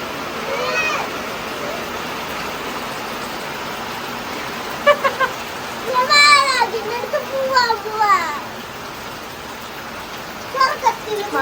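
Steady rain falls outside, a constant hiss. Children's voices chatter and call out over it at intervals.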